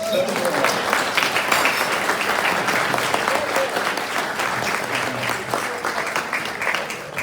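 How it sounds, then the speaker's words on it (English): Dinner guests at a residents appreciation event in a community hall clap for a performance, a full, sustained wash of applause close and loud throughout, with voices mixed in beneath the clapping. "now we can applaud their performance"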